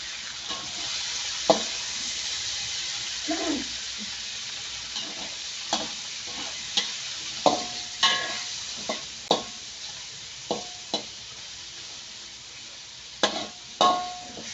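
Pork fat sizzles steadily in a pan as it is fried down to render lard, with a constant hiss broken by repeated scraping and knocking from stirring.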